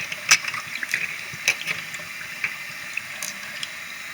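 Water runs into a sink while glass marbles are rinsed, a soft continuous flow broken by light clicks and small clinks as the marbles knock together.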